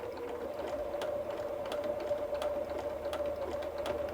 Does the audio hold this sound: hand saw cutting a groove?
no